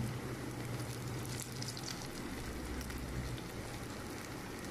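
Chicken kebabs fry in a pan with a steady, close crackling sizzle of hot oil, continuous and even with a low background hum.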